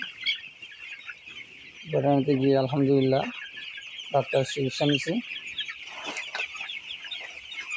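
Sixteen-day-old broiler chickens that have been unwell cluck in two close, loud bursts of rapid, rhythmic calls, with someone talking over and between them.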